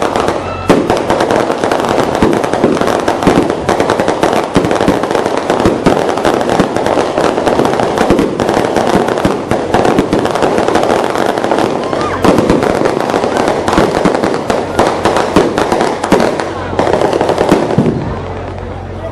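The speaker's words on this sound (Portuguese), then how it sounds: "Fogos não era pra mim não" Fireworks crackle and burst at a public inauguration event in Varzedo, a loud, dense, continuous barrage of rapid pops and bangs that runs almost the whole time before cutting off near the end.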